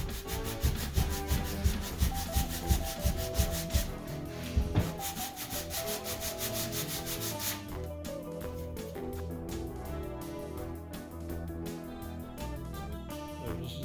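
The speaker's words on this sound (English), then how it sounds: "we're just going to fit this now with some sandpaper" A guitar bridge is rubbed back and forth on sandpaper, first in steady rhythmic strokes, then in a smoother continuous scraping, close and fairly quiet with no talking.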